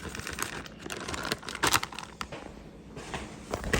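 Close, quiet crinkling and rustling of a plastic bag as marinade is poured in for skirt steak carne asada, in irregular crackly bursts of a few seconds with no talking.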